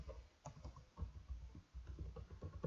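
Typing on a computer keyboard while writing JavaScript code, producing quiet, irregular clicks and key taps in close succession, faint and uneven in rhythm.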